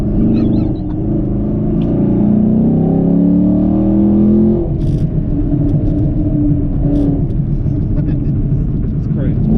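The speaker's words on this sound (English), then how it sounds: "I hate how you have all these fucking backfire." A sixth-generation Chevrolet Camaro SS fitted with a pedal commander rumbles loudly while driving, its deep exhaust drone rising in pitch as it revs. Sharp pops and crackles of backfire follow, and the engine roar stays strong and close throughout.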